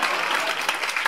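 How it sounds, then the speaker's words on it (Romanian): Stand-up comedy club audience applauding at a comedy show, steady dense clapping throughout the short stretch, fairly close and loud with no talk over it. "vă rog să mai aplaudați o dată"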